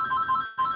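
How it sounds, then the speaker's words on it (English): A telephone rings with a steady electronic trill in two bursts separated by a short gap, moderately loud and close, with no talking over it. "And that's the phone."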